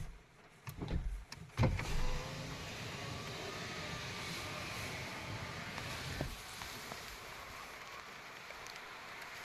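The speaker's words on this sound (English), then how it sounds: "I'll put down the window for a bit." A car's electric power window being lowered while rain falls outside: a few clunks and knocks at the start, then a steady whirring motor hum over the patter of rain, ending with a faint stop.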